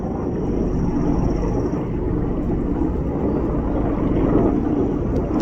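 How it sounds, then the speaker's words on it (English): Military helicopters pass overhead outdoors, a steady, moderately loud rotor and engine drone that swells slightly toward the end, heard from a distance with no talking. "We got some military helicopters going by."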